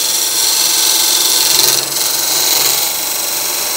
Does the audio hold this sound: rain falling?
no